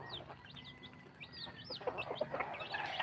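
A mother hen with eight tiny chicks clucks softly and repeatedly, joined by high cheeping chirps from the chicks in a farm setting, with a faint steady background hum.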